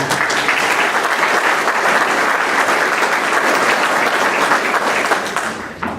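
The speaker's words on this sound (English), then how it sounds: "So give yourselves a round of applause" Audience applause at the 2015 InterServ annual meeting: a dense, steady wash of many hands clapping for about six seconds, easing slightly at the very end.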